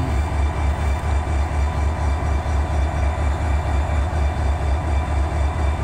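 A heavy Norfolk Southern freight train rolls steadily past nearby with a deep rumble and rhythmic clacking of wheels, loud and continuous throughout.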